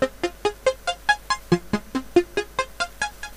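A minor chord arpeggiated in LMMS software, about sixteen quick evenly spaced plucked synth notes cycling up and down in a steady rhythm, clean and moderately loud with no talking.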